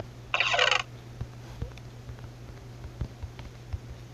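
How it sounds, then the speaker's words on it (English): Chicken clucking in the video game Minecraft: a short, bright burst of clucks near the start, then quieter scattered ticks over a steady low background hum. "Chicken! Free chicken!"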